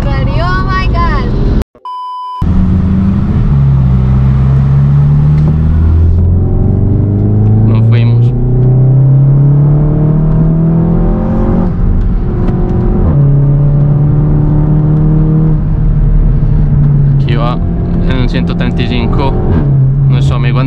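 A Porsche 911 Turbo S accelerates hard while chasing a Ferrari SF90. The engine roars loudly and close, rising through repeated gear pulls, and voices talk over it throughout.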